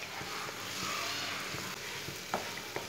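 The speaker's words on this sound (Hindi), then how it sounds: "अब इसमें बॉयल की हुई दाल डाल लेंगे। दाल डाल के इसे अच्छी तरह मिक्स कर लेंगे।" Boiled chana dal is stirred into cooked spices in a pan: a quiet, steady frying hiss with occasional soft spoon knocks and scrapes, heard close and alone without speech.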